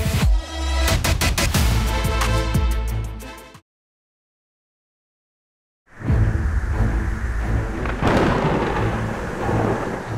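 Thunder during a severe thunderstorm. Loud, rumbling crashes with dense crackling fill the start, then cut to full silence for about two seconds before another long, heavy rumble rolls in with rain-like hiss.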